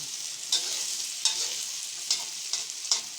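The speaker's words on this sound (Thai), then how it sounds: "ทอดไข่ง่ายง่ายง่าย" An omelette egg fries in hot oil, a steady close sizzle with five sharp crackling bursts as the spatula stirs it, no voices present.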